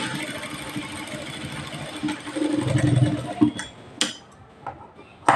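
A sewing machine stitches lace onto a blouse neckline, running in a soft mechanical hum that rises in a short burst, then stops, with clicks and handling knocks at the end.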